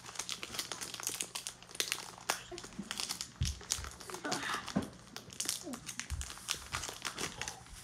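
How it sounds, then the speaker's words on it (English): Foil grab bag of baseball cards torn open and rummaged through, with steady crinkling and crackling of the wrapper and cards handled up close, plus scattered soft knocks. "We are opening a 25-card mystery grab bag."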